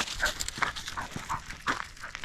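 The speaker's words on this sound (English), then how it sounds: "What are you growling at?" Close, quiet dog sounds on an outing before a hike: short rumbling growls and huffs in irregular bursts, with brief whimpery notes between them.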